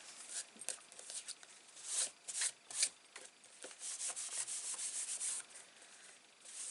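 Embossing buddy dragged over card stock while making a handwritten tropical card, giving soft, close dry rubbing strokes in an uneven back-and-forth rhythm, faint and alone.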